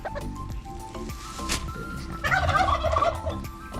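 A turkey gobbles in a rapid rattling burst partway through, set against a noisy outdoor farm background with other low sounds.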